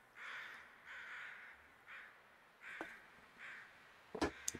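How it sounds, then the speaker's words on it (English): Crows caw repeatedly in a quiet snowy wilderness of the survival game The Long Dark: a series of spaced, moderately distant caws, followed by a brief sharp clatter near the end. "The crows are out"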